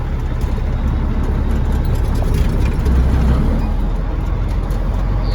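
A power-only truck's diesel engine drones loudly and steadily from inside the cab as it starts pulling away, a constant low rumble with a slight swell midway.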